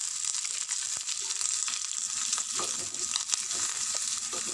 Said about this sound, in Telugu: ఈ కొత్తిమీర కరివేపాకు చక్కగా వేగించేస్తున్నాను